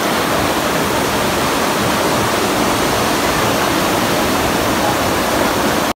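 River water in rural Bicol province, Philippines, rushes steadily in a loud, unbroken wash of noise with no pauses, like a fast current or small waterfall close by.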